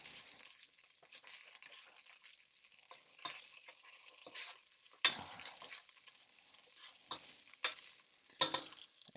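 Shrimp coconut curry ingredients cook in a pan, a steady soft sizzle with occasional sharper spatters and stirring scrapes, close and alone with no talk.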